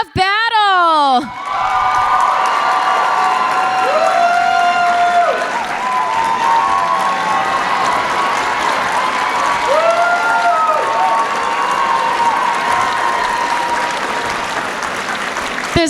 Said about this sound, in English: Everyone give your winners a round of applause